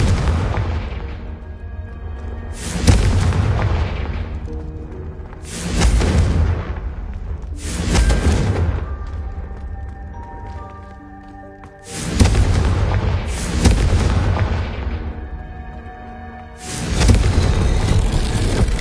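Confringo fire spells in Hogwarts Legacy blast repeatedly, five or six heavy booming explosions spaced a few seconds apart, each with a long rumbling decay and ringing tail, loud and close with no talking.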